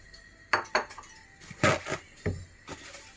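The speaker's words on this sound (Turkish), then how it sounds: "Şimdi hazırladığımız meyvelerimizi tenceremize koyuyoruz." Several sharp clattering knocks of prepared peaches, pears and grapes dropping into a metal cooking pot for canning, in irregular bursts close by.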